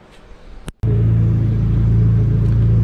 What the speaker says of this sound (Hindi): तो ये फ्रेंड्स गाड़ी हमारी स्टार्ट है अब।